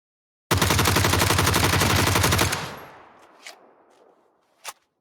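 Automatic weapon fire in PUBG on the Vikendi map: a long, loud rapid burst of shots lasting about two seconds, followed by a fading echo and a couple of faint distant pops.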